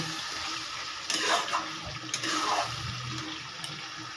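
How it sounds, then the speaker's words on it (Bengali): Water pours into chicken curry cooking in a pan, giving a close, gurgling splash over a low background hiss, with two short surges of pouring about a second apart and no talk. "এবারে আমি অল্প একটু জল দিয়ে দেব।"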